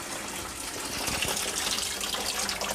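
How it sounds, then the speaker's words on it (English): Water gushes fast from a tap into a shrimp rack setup, a loud, steady broadband rush that runs unbroken with no voices. "You can actually hear the sound. It's actually very fast. It's gonna overflow."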